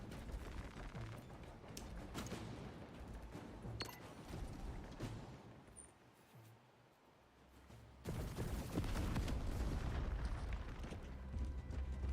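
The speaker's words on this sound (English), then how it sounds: "Charge is in position. Clear the blast area. Blow it." A demolition charge goes off in the video game Space Marine 2, sounding as dense rumbling booms and debris over the game's background noise. The blast swells again loudly after a brief lull.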